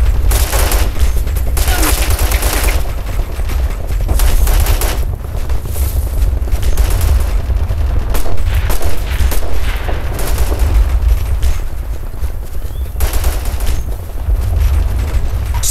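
Hostile gunfire in the war game Operation Flashpoint: Red River, loud bursts of automatic rifle and machine-gun fire with heavy booms, rattling in clustered volleys throughout with no break in the shooting.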